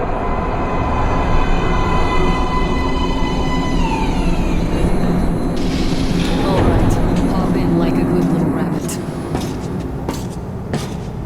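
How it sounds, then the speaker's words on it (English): A subway train pulls into a platform in the video game Metro Last Light, a loud, steady rumbling roar with rising whine and clatter that fills the whole stretch. "Please step away from the edge of the platform. Train coming in."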